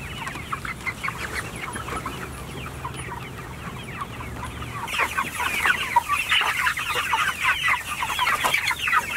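A flock of chickens clucks and chatters continuously nearby, a busy flock growing louder partway through, with no talking.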